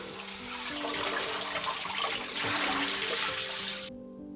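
Steady rush of tap water splashing into a sink while cabbage is washed, constant and fairly close for about four seconds before cutting off abruptly.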